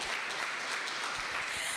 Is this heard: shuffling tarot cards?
no